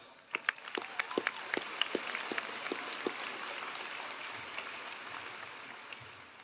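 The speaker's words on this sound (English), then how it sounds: "Give yourselves a round of applause." Graduating high school class applauding at their commencement, a crowd of scattered sharp claps over a broad wash of clapping that gradually softens, heard from some distance.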